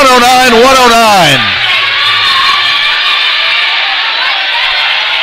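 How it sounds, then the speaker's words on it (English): A commentator calls an ABA men's basketball game between the Oakland Bayhawks and San Diego Guardians, then a loud, sustained crowd roar swells in the arena as the score sits tied at 109. "And this crowd is starting to make some noise."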